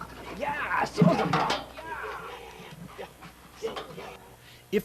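A narcotics detection dog pants in quick, uneven bursts while searching during a training session, close by and fairly faint, with people talking over it.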